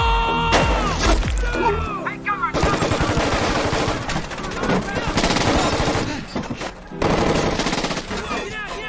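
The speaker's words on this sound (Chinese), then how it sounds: "那些游击队居高临下进行射击，那是 AK 与 RPG 齐上阵" Movie ambush of a US Army convoy in an Iraqi town street, with insurgents firing AK rifles and RPGs from above: dense bursts of loud automatic gunfire and explosive cracks, a short lull, then renewed heavy shooting.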